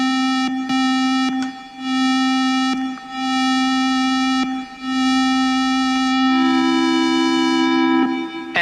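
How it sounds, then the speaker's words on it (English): A sustained synthesizer tone with a slowed attack envelope swells gently into each note, repeating several times before a brighter layer enters near the end, clean and loud. "let's hear what happens to the sound if we slow down the attack"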